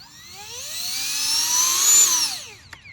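A UMX Viper FPV model plane's small electric motor throttles up into a loud, rising whine that holds high, then drops away near the end, heard up close with no talk.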